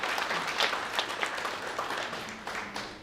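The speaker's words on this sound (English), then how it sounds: "Please, again, a round of applause." Scattered applause from an audience at a Miss Heilala pageant interview, moderately distant, with a steady patter of claps that holds for a few seconds.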